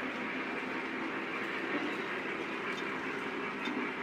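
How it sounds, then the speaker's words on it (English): A Lionel model train, a Union Railroad switcher, runs steadily on its track, a continuous rolling rumble with faint clicking at an even level throughout, no voices. "here's our Union Railroad switcher."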